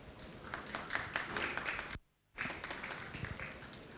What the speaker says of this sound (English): please join our colleagues and with a round of applause for